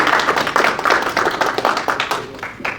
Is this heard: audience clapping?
yes